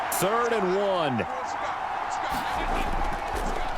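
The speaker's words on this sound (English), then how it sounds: "A big play here as the crowd noise rises." Stadium crowd noise in a Madden NFL video game broadcast of Panthers versus Bears, a steady loud roar that swells under a commentator's voice, with a brief crowd chant near the start.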